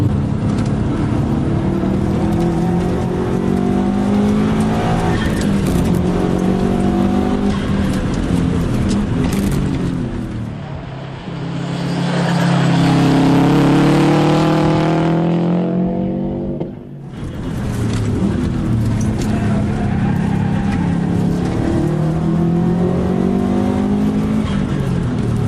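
A car laps the Oran Park racetrack on Toyo Proxes R888 tyres, its engine loud and close, revving up and down through the gears with a brief pass-by swell in the middle and no talk.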